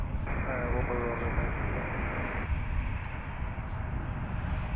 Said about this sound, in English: It's like an American 737-800 going to Orlando